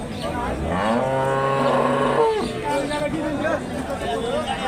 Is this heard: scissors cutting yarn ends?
no